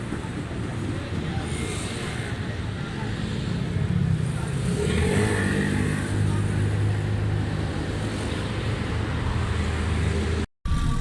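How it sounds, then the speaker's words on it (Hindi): A Suzuki Alto with a mixture pickup and fuel fault runs under steady broadband rumble and wind-like hiss; a low engine drone thickens and rises midway, with faint voices in the background. "लगाओ यार गाड़ी स्टार्ट करेंगे।"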